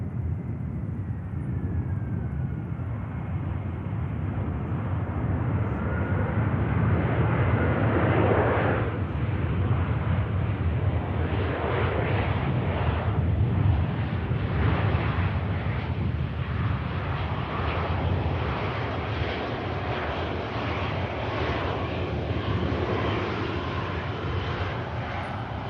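Airbus A320 airliner landing at Manchester Airport, a long loud jet roar that swells and churns as it passes, then settles into a steady rush.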